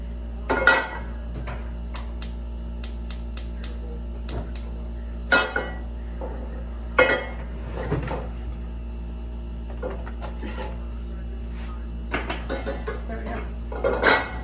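A big skillet being washed in a kitchen, with scattered metallic clanks and knocks of the pan against the sink at irregular intervals over a low steady hum.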